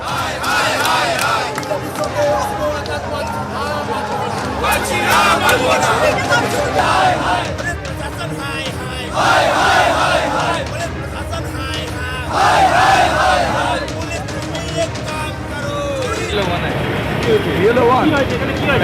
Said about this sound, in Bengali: দুপক্ষের স্লোগান, পাল্টা স্লোগানকে কেন্দ্র করে রীতিমতো উত্তেজনার পরিস্থিতি